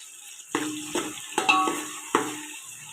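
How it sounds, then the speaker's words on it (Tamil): Onions sautéing in hot oil in a pan for chicken biryani, a steady sizzle broken by several sharp spoon-against-pan stirring knocks in an uneven rhythm, close-up. "எண்ணெய் வச்சு இப்போ நம்ம வெங்காயம் போட்டுக்கலாம் வெங்காயம் போட்டாச்சு இப்போ வந்து வணக்கணும்"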